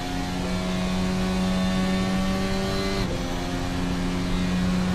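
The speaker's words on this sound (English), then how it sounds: "Let's check out this rear wing camera from Colin Edwards' vehicle." An onboard rear-wing camera on a race car on a racing circuit picks up a steady, loud engine drone with strong sustained tones, holding nearly constant apart from a brief dip partway through.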